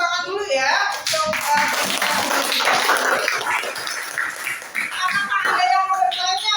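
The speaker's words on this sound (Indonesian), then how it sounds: "Apakah kita beri tepuk tangan dulu ya" A group claps briefly during an academic coaching session, a short, moderately loud burst of applause in the middle with speech and voices before and after it.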